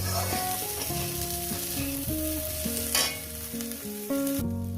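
Mola fish with onion and coriander leaves fries in a pan with a continuous hiss and sizzle, partly covered by background music playing over it.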